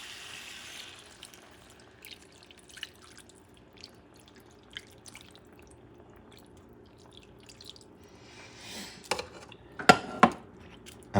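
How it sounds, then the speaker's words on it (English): Vegetable stock drips and splashes into a paella pan for Paella Valenciana with chicken, faint trickles and taps building to a few louder pouring splashes near the end. "I'm going to put about a couple cups of water"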